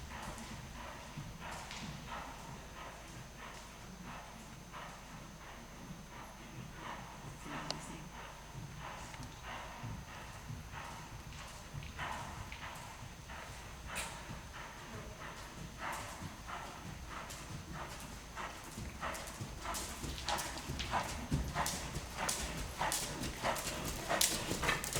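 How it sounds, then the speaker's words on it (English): A cantering horse's hooves beat in a regular three-beat rhythm on an arena surface, fairly near and growing louder toward the end, with a dog barking faintly and some quiet talk. "Go on the diagonal and do 3/4 from this canter."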